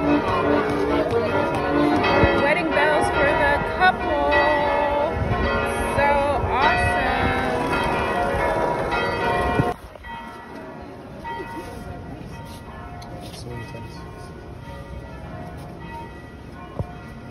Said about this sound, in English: Wedding bells for the couple.